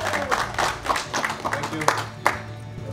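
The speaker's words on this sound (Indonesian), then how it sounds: "tepuk tangan untuk Mark Locke" An audience claps for a guest at a product launch talk show for a Mills sneaker, with scattered, uneven claps under a speaking voice and a few sharper slaps standing out.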